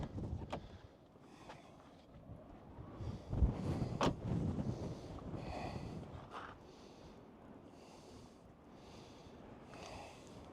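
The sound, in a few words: wind blowing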